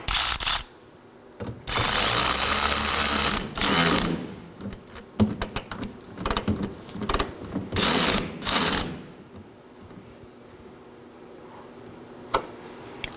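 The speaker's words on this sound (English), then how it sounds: "And now for our 10mm screw. Just snug it down." A hand ratchet snugs down a 10mm screw on the rear bumper of a 2014-2019 Nissan Sentra, giving loud, close bursts of rapid clicking in uneven spurts, then a few scattered clicks and quieter handling noise.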